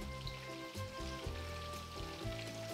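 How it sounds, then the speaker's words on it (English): Chicken frying in hot oil gives a steady crackling sizzle with rain-like popping, loud and continuous with a faint tonal hum beneath, no voices. "we'll be right back after the chicken is done frying"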